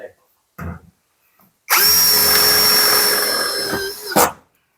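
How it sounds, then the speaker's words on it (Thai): A power impact drill whirs steadily for about two and a half seconds while a shrine shelf is installed, loud and close, after a couple of brief knocks and before a final short burst. "สว่านนี่กระแทกมันบ่ค่อยดีเนาะ"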